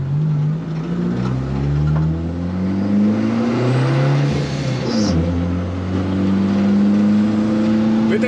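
An Abarth car drives a timed lap on the Bilster Berg circuit, its engine close and loud, revving up through the gears with rising pitch sweeps and brief lifts between shifts.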